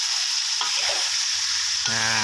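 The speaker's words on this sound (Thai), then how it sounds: "ผัดให้กลมกล่อมนะครับ ให้หอมนะครับ" Chicken ribs and mixed vegetables stir-fried in a pot for a Thai soup, a loud continuous sizzle and frying hiss with a scrape of stirring, close up and without talk.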